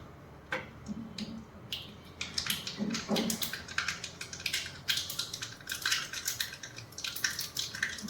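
Mustard seeds splutter in hot oil for a tempering, giving a rapid, irregular run of sharp pops and crackles close by over a soft background hiss, with no talking.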